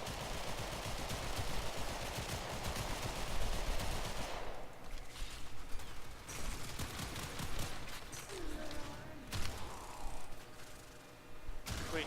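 Pistol gunfire in the video game Warframe, heard as dense, rapid shots and bursts filling the first four seconds, then scattered sharper shots and mechanical clicks over quieter game ambience.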